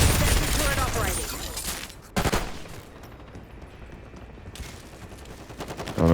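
Sustained automatic turret fire in a Call of Duty multiplayer match, a loud rapid burst that drops away, then a sharp crack and quieter scattered shots with a renewed burst at the end.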